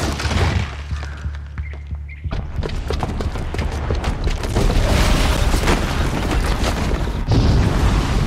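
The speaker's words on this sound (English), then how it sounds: "the booby trap on the bomb downstairs is gonna get set off" A booby-trapped bomb goes off in the Horizon Zero Dawn video game, a loud, sustained booming rumble with crashing debris and mechanical clatter filling the scene.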